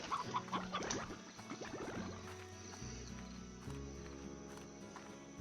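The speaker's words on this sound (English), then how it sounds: "And now I can make infinite chickens." Soft, synthetic clucking from chickens in a Slime Rancher chicken coop alongside light footstep-like taps and a steady electronic background, all fairly quiet.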